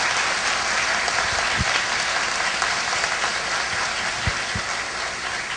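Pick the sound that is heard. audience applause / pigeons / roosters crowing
audience applause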